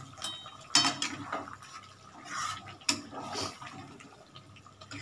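A lid goes onto a cooking pan with a sharp metallic clank, and green chilies are dropped in while winter vegetables with potato, cauliflower, peas and paneer simmer underneath, with a second clatter and a steady bubbling sizzle.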